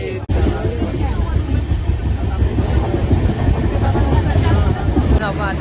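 A train at Lonavala railway station rumbles loud and close with a rolling mechanical clatter and a faint background of crowd murmur, continuous throughout.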